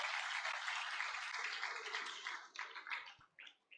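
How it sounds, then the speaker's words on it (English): Audience applause at the close of an annual university lecture at the UNIOSUN College of Management and Social Sciences, a broad, steady wash of clapping that thins out and grows patchier toward the end. "can we please give him a big round of applause?"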